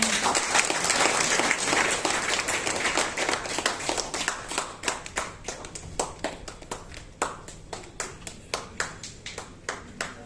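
Enthusiastic applause from a group, dense at first and then thinning into scattered, separate claps toward the end.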